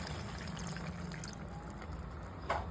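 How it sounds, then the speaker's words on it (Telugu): Water poured into a pan of egg and raw prawn masala curry, a soft steady liquid trickle running throughout, close and moderately quiet, with a brief louder splash near the end. "ఇప్పుడు వాటర్ వేసుకుంటానండి."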